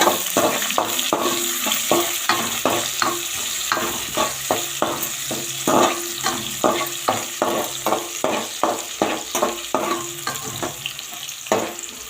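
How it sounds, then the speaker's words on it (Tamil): Onion, garlic and ladies' finger sautéing in a pan for a brinjal and potato gravy, with a steady close sizzle and frequent rhythmic scrapes and clinks of a spoon stirring against the pan, no voices. "வெங்காயம் பூண்டு வெண்டையும் போட்டு பொன்னிறமாக வதக்கிக்கோங்க"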